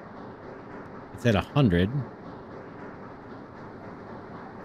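A train rolls along in the railway-building game Sweet Transit, a steady low rumble and rattle that runs throughout, with someone speaking briefly over it.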